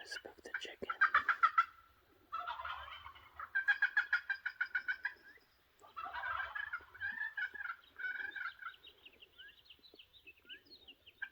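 A wild turkey, outdoors on a spring hunt, gobbles and clucks in several bursts of rapid rattling calls, with a faint low voice murmuring under them.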